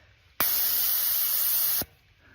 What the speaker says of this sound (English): I'm going to let some air out